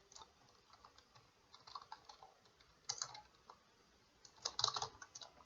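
Typing on a computer keyboard: sparse, quiet key taps with a few louder bursts of quick keystrokes near the end, alone without speech.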